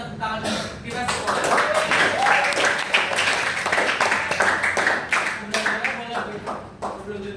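A whole class claps together before the lesson closes, steady dense clapping from many students lasting several seconds, with a few voices mixed in.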